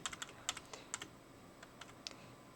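Computer keyboard arrow keys pressed repeatedly, quiet close clicks in quick irregular bursts with short pauses, no talking.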